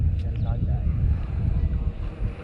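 Strong, cold wind buffets the microphone in low, gusty rumbles during a Bajaj Dominar 400 motorcycle ride, with a brief voice heard early on.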